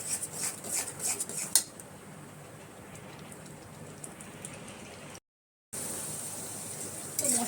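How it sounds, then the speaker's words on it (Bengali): A spice masala with tomato is sautéed and stirred in a pan for a paneer dish, making clinks and scrapes of utensil on metal over a soft, steady sizzle, with a brief silent gap near the end. "টমেটোর সাথে মশলাটাকে ভালো করে মিশিয়ে ভালো মতন কষিয়ে নেবো"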